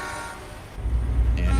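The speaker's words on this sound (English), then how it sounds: "you're seeing all the flags and all the honking of the horns" Vehicle horns toot loudly from a crowd in Ottawa's Parliament area, with a steady, heavy rumble of traffic and engines beneath the honking.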